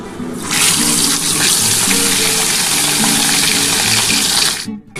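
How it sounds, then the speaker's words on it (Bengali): Pieces of katla fish go into hot oil in a pan, setting off a loud, continuous sizzle that starts abruptly and cuts off just before the end. "আমি এবার মাছগুলো দিয়ে দিচ্ছি একটা একটা করে, দিয়ে আমি হালকা করে মাছগুলো ভেজে নেবো।"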